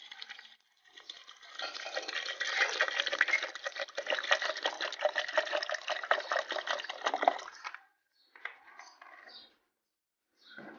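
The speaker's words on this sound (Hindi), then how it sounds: "साथ में हम पानी डाल देंगे।" Water poured into a jug holding falsa berries and sugar for a sherbet, a steady splashing stream running for several seconds, then a few brief trickles and drips; close and fairly quiet.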